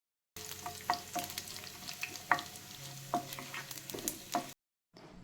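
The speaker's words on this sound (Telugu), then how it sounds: "మనం చాప్ చేసుకున్న అల్లము, వెల్లుల్లి అండ్ పోపు దినుసులు అన్నీ వేసుకొని ఒకదాని తర్వాత ఒకటి కొంచెం లైట్ కలర్ వచ్చే వరకు ఫ్రై చేస్తూ ఉండాలండి" Chopped ginger, garlic and tempering spices frying in ghee for cashew upma, with a steady close sizzle and intermittent clicks and stirring scrapes, quiet at the end before a brief clatter.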